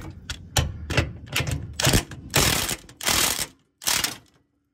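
Mechanical clicking and ratcheting from loosening a 21 mm bumper bolt on a 2015-or-later Ford F150, in several close, sharp bursts with short pauses between them and no talk over them.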